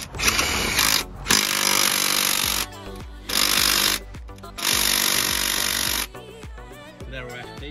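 A power tool chops down bolts for an MK5 Golf R32 engine mount, loud grinding bursts of about a second each, repeated several times with brief pauses in between.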